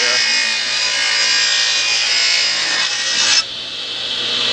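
A power saw cuts wood for Piper Super Cub wing tip bow staves, a loud, bright, continuous whine close up with a dust collector running, dropping off near the end as the cut finishes.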